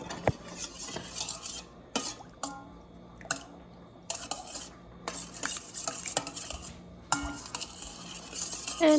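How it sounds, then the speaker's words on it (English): Spoon stirring yeast and sugar into wet bread dough ingredients in a bowl, with repeated scraping and clinking strokes in short bursts separated by brief pauses, close and fairly soft. "give it a little mix so that the yeast mixes with the sugar"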